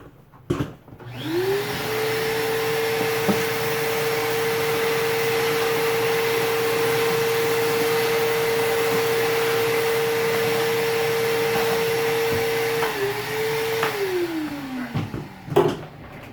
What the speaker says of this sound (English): I'm going to vacuum this up real quick. It's going to be loud for a second.